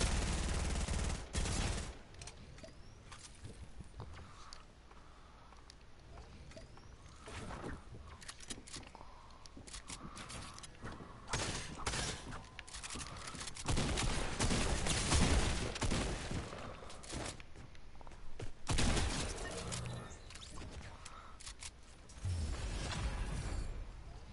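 Game gunfire crackles in dense, irregular bursts and scattered single shots throughout, with a steady background din and no speech.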